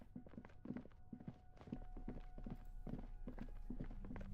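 Heavy, thudding footsteps in the detective game Disco Elysium, a steady sequence of dull, close thumps against a faint low hum, with no one talking.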